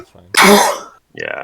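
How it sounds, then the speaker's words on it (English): A single loud, harsh cough bursts out close to the microphone, followed by a brief spoken phrase. "I think I coughed, not sneezed."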